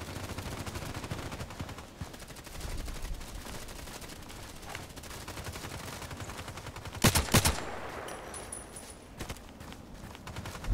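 Rapid automatic gunfire rattles in a tactical sniper video game, with a dense burst of loud shots partway through over a steady background of game noise and no speech.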